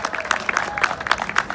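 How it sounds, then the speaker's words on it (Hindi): An audience applauds at a performance by a dhol player: a brief burst of many hands clapping in quick, uneven bursts at moderate loudness. "जोरदार तालियां"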